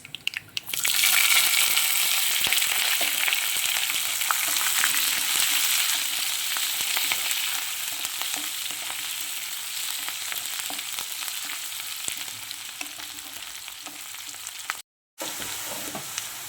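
Onion and green chillies crackle and sizzle in hot ghee with spices for a coconut milk pulao, a loud, steady frying hiss that holds throughout with a brief cut near the end.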